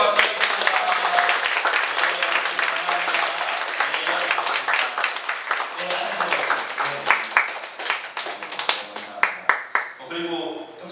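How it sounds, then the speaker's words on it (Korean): A church congregation gives loud, close applause that holds steady for several seconds, then breaks into separate claps, with voices talking over it near the end. "네, 우리 크게 박수 드리겠습니다."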